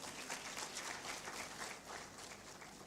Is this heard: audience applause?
yes